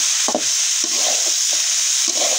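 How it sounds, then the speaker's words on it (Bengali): Potatoes frying in a pan for potato bhaji served with roti, a loud steady hiss of oil broken by several scraping strokes of a spatula. "আমি এই পাশ দিয়ে রুটি দিয়ে খাওয়ার জন্য আলু ভাজি করতেছি"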